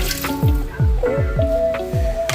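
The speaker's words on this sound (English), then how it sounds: "I'm gonna go ahead and I'm gonna add some water." Water poured into a stew pot of beef neckbones and oxtail gives close, repeated glugging splashes and bubbly plops in an uneven rhythm, with brief pauses between pours.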